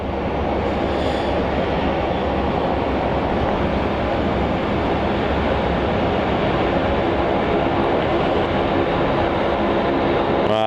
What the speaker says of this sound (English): Malaysia Airlines is arriving now.